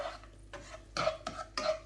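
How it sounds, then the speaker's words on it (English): Chillies being stirred into a masala for aloo samosa filling in a cooking pan, a few quiet scraping and clinking strokes of a spoon against the pan, close and soft with no talk. "Add them in and just stir that up."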